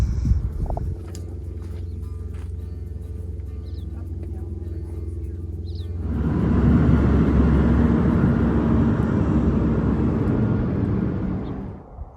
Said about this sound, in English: Wish the traffic would pipe down so I could hear the birds.